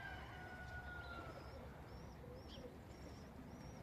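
English tippler pigeons coo softly in a morning setting, with faint, brief, high calls repeating over a steady broadband outdoor hiss, distant and quiet throughout.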